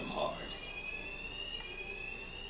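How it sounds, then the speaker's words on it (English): A building alarm in the Batman: Arkham Knight video game rings as a steady high electronic tone throughout, moderately faint, with a voice speaking briefly at the start. "Two-Face's thugs won't hear me over the alarm."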